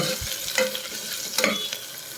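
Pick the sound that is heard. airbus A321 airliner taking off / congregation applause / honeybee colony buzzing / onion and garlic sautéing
onion and garlic sautéing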